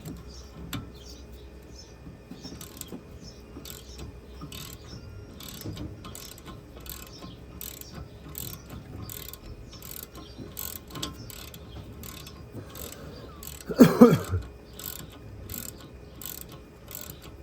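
Ratchet clicking as a socket turns a bolt on the rear brake of a VW Passat B6, a quiet run of small rapid clicks through most of the stretch with a louder burst of mechanical rattling near the end, no talking.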